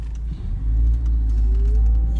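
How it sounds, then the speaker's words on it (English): A LADA NIVA 5D on the move carries a constant low rumble from tires rubbing against the wheel arches, steady and fairly loud inside the cabin, with a faint rising whine in the background. "Unfortunately, the tires touch the arches, and you can hear it all the time."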